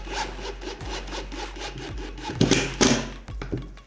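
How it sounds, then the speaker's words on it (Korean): A small Phillips screw is driven with a bit-socket tool, giving a close, dry, rasping grind in uneven strokes with a couple of louder scraping bursts. Nobody talks. "보통 이렇게 작은 피스를 체결하게 되는데 십자죠"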